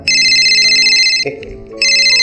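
A phone ringtone plays loud and close, a bright repeating electronic tone that pauses briefly, then resumes.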